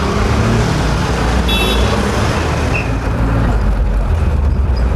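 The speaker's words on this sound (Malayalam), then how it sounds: "ഇതാ ഒരു ബസ് വരുന്നുണ്ട്. തിങ്കൾ നഗർ എന്ന് പറഞ്ഞ് ബോർഡ് വെച്ചിട്ടൊരു ബസ് വരുന്നുണ്ട്." A bus pulls in at the Thingal Nagar stop near Muttom in Kanyakumari amid busy traffic, giving a loud, continuous engine rumble with a brief high hiss partway through.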